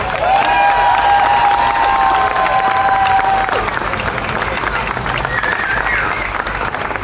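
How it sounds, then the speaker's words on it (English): A rally crowd applauds loudly and steadily, with dense clapping and some cheering, while a whistle-like tone rises and holds near the start. "Give yourselves a round of applause"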